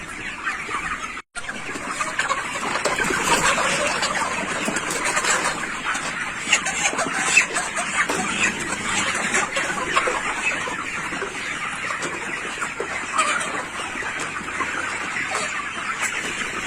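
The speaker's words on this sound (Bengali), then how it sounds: "এখানে 2 নম্বর শেডে 1000 পিস সোনালী মুরগি আছে।" About a thousand 12-day-old Sonali chickens fill a poultry shed with continuous overlapping clucks and chirps, a dense, busy chorus that stays steady and close throughout, with no talking.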